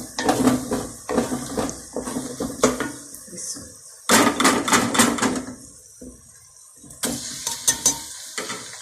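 Minced meat (keema) stirred in ghee in a cooking pot, with repeated scraping and clattering of a spoon against metal and a soft sizzle, in close, busy bursts separated by brief pauses.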